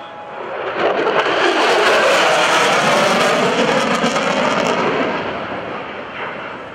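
A military jet in the USAF Heritage Flight roars past at an airshow at NAS Oceana, a loud, broad, sustained jet noise that swells in and holds for several seconds before fading away, heard without talk.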